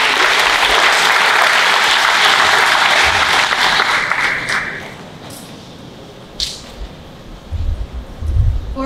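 Loud applause from the audience at a middle and senior school presentation ceremony carries on for about five seconds, then cuts off into quiet room noise with a few soft thumps and shuffles.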